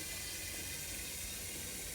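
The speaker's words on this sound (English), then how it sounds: "I'm going to use some cold water now." Cold tap water pours steadily into a cider-making container for rinsing, a continuous broadband hiss and splash of filling liquid running unbroken from start to finish, close and moderately loud with no voices.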